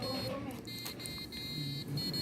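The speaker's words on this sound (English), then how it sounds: "then the timer will be turn on the alarm" A homemade Arduino kitchen timer's alarm buzzer sounds in repeated shrill electronic beeps, loud and close, with a voice talking underneath.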